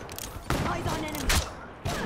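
Gunfire in the video game Call of Duty: Black Ops III, three loud close bursts of shots within two seconds, with a voice talking under them.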